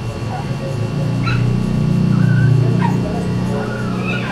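A sick puppy suffering from epilepsy whimpers with thin high-pitched cries and small yips under steady background noise and nearby talk.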